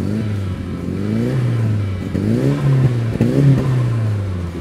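A turbocharged Mitsubishi Eclipse DSM engine, just back running after a turbo swap and exhaust leak fix, revs up and falls back repeatedly in close, steady rises and drops over a continuous idle.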